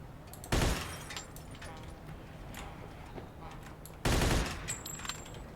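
Gunfire in the Mafia 2 video game: two loud, sharp bursts of shots about four seconds apart, each ringing briefly over a steady low background hum.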